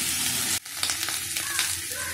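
Potatoes and eggplant sizzle in a pan with turmeric, chili and cumin powders, a steady loud frying hiss broken by a brief pause near the start, with stirring scrapes throughout.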